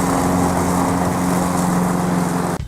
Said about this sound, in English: he's too busy mowing the leaves